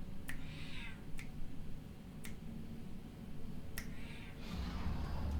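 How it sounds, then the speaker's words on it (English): A cat meows several times in a quiet room, the short calls spaced a second or so apart over a low steady background hum. "Come on, kitty."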